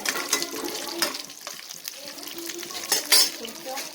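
Urad dal and asafoetida crackle as they temper in hot oil in a pan. A soft, steady frying hiss runs under light stirring and scraping, with a few sharper spits.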